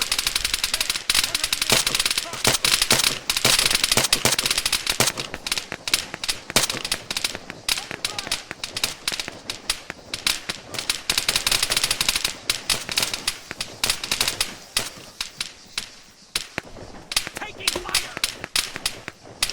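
Rapid bursts of automatic gunfire and single shots in Arma, a military shooter game, crack repeatedly and densely over about twenty seconds, loud and close, with intermittent radio-style voices calling out under the shooting.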